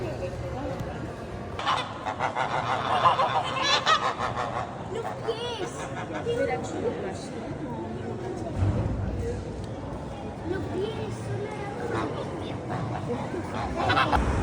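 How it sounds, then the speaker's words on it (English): Geese in a tranquil old Barcelona cathedral courtyard honk repeatedly in loud bursts, mixed with crowd noise and talking in the echoing space. "a tranquil courtyard filled with geese"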